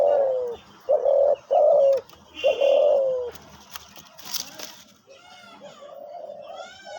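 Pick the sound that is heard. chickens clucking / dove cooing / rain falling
dove cooing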